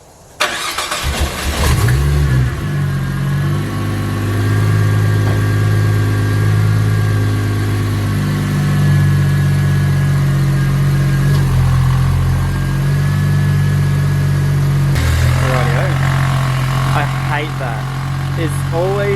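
A Ford Falcon turbo engine cranks and catches after a spark plug change, then holds a steady, loud, close idle with a faint rattle, while a person talks over it.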